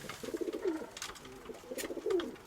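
A pigeon coos twice in low, throaty phrases, near and fairly soft, with faint background noise and no talk.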